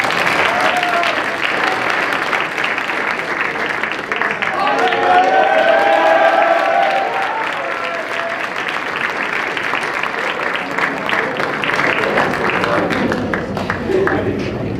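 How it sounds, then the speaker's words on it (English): Audience at a high school business honors awards ceremony applauds steadily for an absent winner, with dense, sustained clapping throughout and a voice speaking over it midway. "We can clap for him."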